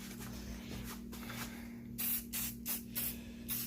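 A spray paint can sprays in short bursts while trophies are built for a chili cook-off. There are five or six sharp, loud hisses, each under half a second, following a softer low hum.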